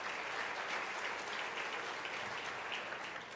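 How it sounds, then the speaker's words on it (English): A large audience applauds steadily throughout at the U.S.-Africa Leaders Summit, a dense, even wash of clapping heard from a distance with no voices over it. "Please give them all a round of applause."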